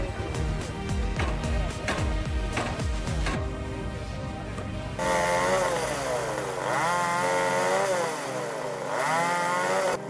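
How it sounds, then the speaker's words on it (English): A chainsaw mounted on a pivot buzzes steadily, then its pitch drops and strains as it bites into logs cut for firewood, revving and bogging under load, close and continuous. "a chainsaw on a pivot, effortlessly turning logs into firewood"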